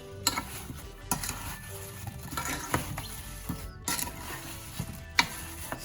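Apples and sea moss being stirred in a pot of simmering applesauce, a soft scraping and gentle bubbling with a few light knocks of the spoon, fairly quiet and close.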